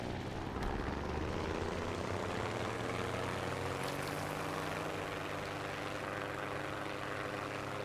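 A player-built aircraft's engine drones in the game Trailmakers, a constant whirring propeller roar with a slowly shifting pitch, steady and fairly loud with no voices.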